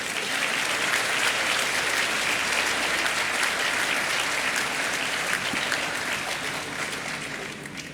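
Sustained, loud applause from an audience at the grand opening of a Panasonic EV battery plant in De Soto, welcoming a speaker to the stage, steady and dense for the whole stretch with no talk over it.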